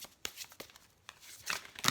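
Several quick bursts of a 52-card deck being shuffled, crisp riffling flutters sounding close but quiet, separated by short gaps, with a louder flurry near the end.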